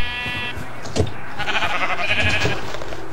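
Several Minecraft sheep bleat in quick, nasal calls close by, overlapping one another against a faint game background with no talk.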